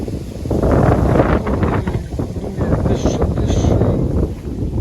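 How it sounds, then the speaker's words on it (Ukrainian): Strong wind buffets the microphone at a lakeside fishing spot, with rumbling gusts that swell and ease and some faint voices underneath. "Да, Вітрюган, звісно."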